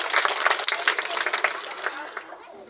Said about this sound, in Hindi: जोरदार तालियों से उनका अभिनंदन किया जाए